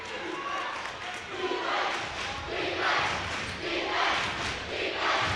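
Spectators at a girls high school basketball tournament game roar and cheer in a gym, a loud sustained wash of crowd noise swelling in waves, with some voices shouting above it.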